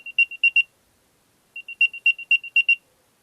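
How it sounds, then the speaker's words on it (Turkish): An Apple AirTag playing its locating sound: two bursts of bright, electronic chirping tones in a quick rising pattern, separated by a brief silence, clear and close with no talk. "Bulucuda şimdi ses çalıyorum."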